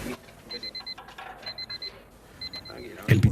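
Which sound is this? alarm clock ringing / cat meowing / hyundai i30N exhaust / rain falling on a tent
alarm clock ringing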